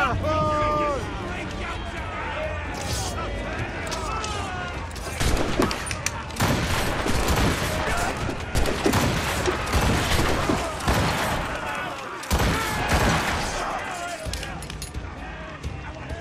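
Naval cannon volleys fired from a ship in the video game Assassin's Creed Rogue: a dense, continuous barrage of booming blasts and crackling bursts, loud and close, with voices shouting over the battle.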